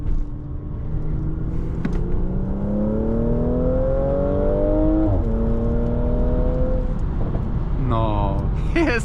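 A 2015 Mercedes C450 AMG with a 367 hp engine pulls hard through the gears, its rising engine note dropping at each upshift and ending in a burst of pops and crackles, heard from inside the cabin.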